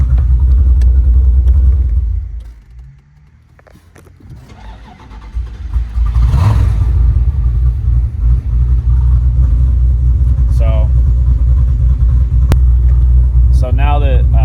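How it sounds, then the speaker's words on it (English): A hot 426 Hemi in a Challenger turns over and fires after a brief dip in sound, then rumbles at a loud, deep, steady idle up close. "So now that the hot start's out of the way"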